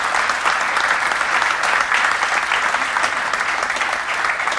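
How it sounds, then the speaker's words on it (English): Steady applause from a conference audience in Vienna, a dense even wash of many hands clapping that holds at a constant level for several seconds with no voices over it. "Maybe another round of applause."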